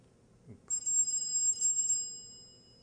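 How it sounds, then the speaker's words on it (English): A mobile phone ringtone goes off indoors during a conference talk, a steady high electronic tone that sounds for about two seconds on its own, clear and close, then fades. "Is that my phone?"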